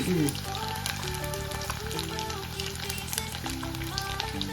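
Tofu frying in hot oil, giving a steady close crackling sizzle that runs throughout, with someone speaking over it and a brief louder bump at the start.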